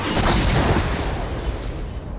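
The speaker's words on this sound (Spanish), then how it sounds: "con esa explosión la moto tiene que estar destrozadísima" A loud, rumbling explosion near a motorcycle in Tomb Raider 4 on PC, with a broad crackling burst that fades slowly, alone without voices.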